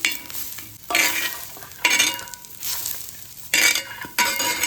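Onion frying in a little oil on a griddle pan, heard as loud bursts of sizzling and scraping as it is stirred, alternating with quieter gaps, close up and without speech.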